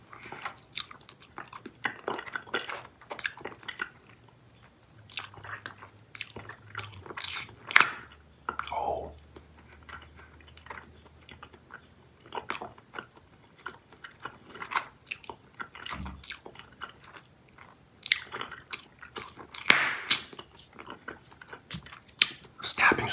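Cotton candy flavored Bubble Yum bubble gum is chewed close up in wet, sticky smacks and small snaps at an irregular rhythm, with soft speech now and then between the chews.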